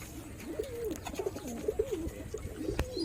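Pigeons at a rooftop loft coo softly in repeated low, rolling calls, fairly close but quiet, with a few faint background knocks.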